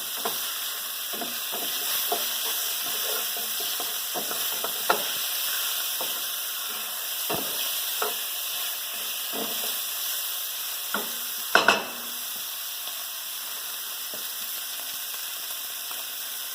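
Beef browns in a pan for stew, a continuous even sizzle broken by scattered light taps and a brief louder clatter near the end.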